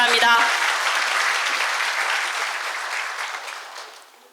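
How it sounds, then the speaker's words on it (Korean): A seated audience at a health-care labor-management meeting gives a round of applause, the clapping loud at first after a brief voice, then gradually fading over a few seconds. "모두 큰 박수로 환영해 주시기 바랍니다."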